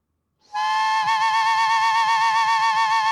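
A flute played properly sounds one long, bright, sustained note with gentle vibrato pulsing through it after a quick onset, close, steady and alone.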